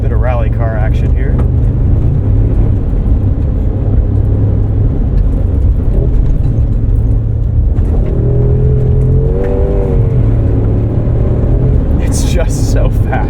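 A 2025 Mercedes-AMG G63 roars while driven fast off-road, its engine revving loudly and continuously with rising and falling pitch, while a person talks over it.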